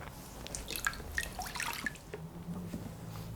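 Water drips and trickles from a squeezed plaster sponge while making handmade recycled paper with jasmine, giving scattered light splashes and patters at close range with no talking.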